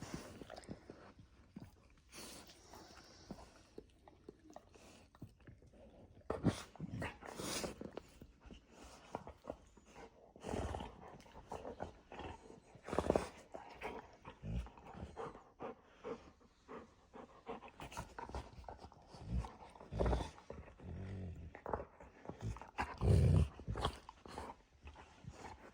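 Pet dogs play and wrestle indoors, snorting, panting and letting out short growls and whimpers in irregular bursts, close and fairly quiet, with scuffling in between.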